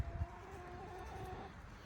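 Chickens in a backyard yard clucking with rising agitation, a few sharp calls at the start then a steady, moderately close murmur of clucks.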